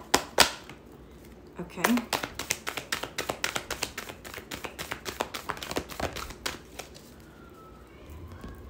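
Rapid crisp flicks and taps of oracle cards being shuffled close by, in quick irregular bursts, with a brief spoken word partway through.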